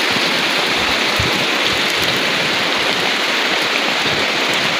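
Heavy rain pours down steadily with rushing floodwater flowing alongside, a dense, loud and continuous wash of water with no pauses throughout.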